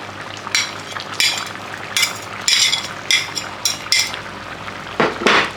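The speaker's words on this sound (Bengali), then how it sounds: "হালকা করে নাড়াতে লাগবে।" A metal spoon scrapes and clinks against a pan of jackfruit curry with fried prawns, several sharp knocks in an irregular rhythm over a low simmering background, close and fairly loud.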